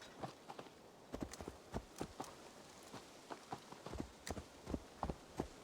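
Horse hooves clopping in Assassin's Creed Valhalla, a steady series of faint, soft walking-pace hoof strikes with no talk over them.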